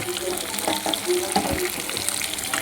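Fish pieces frying in oil in a pan while being gently turned, a steady close sizzle with soft scraping and clinking from the spatula, and a voice talking intermittently over it.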